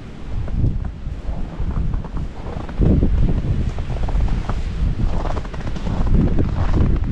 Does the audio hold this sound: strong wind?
yes